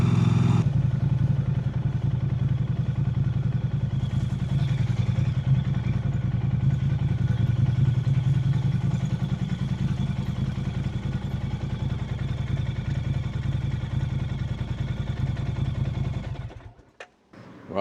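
A Norton 961SP Commando motorcycle engine runs while riding, a steady low rumbling drone held near and loud for most of the stretch before dropping away abruptly at the end.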